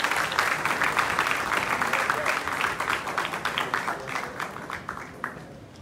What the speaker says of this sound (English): Together with your applause,